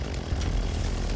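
A flying chainsaw in the video game Lucius 2 drones with a steady, loud motorized buzz, close and continuous, with no talking over it.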